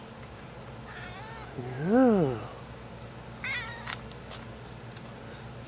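A cat's drawn-out meow rises and falls near the middle, followed by a shorter, fainter meow, against a quiet background with a brief spoken word.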